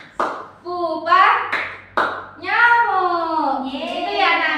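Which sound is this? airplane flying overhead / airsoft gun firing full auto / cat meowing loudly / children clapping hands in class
children clapping hands in class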